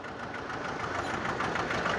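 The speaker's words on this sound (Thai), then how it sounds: "แต่เครื่องยนต์สองสูบนะเออ" A Kubota L240 two-cylinder 24 hp tractor engine running steadily, a low chugging drone with a rough, even pulse, close by and moderately loud.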